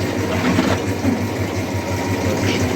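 A feed pellet mill driven by a 5.5 kW electric motor runs steadily, a loud, close, even mechanical hum with a regular low pulsing throb and no speech.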